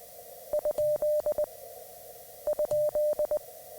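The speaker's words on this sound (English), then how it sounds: "so they'll send a question mark" A steady mid-pitched Morse tone keys out the question mark on CW amateur radio, two short, two long, two short beeps, sent twice with a pause between, clean and alone.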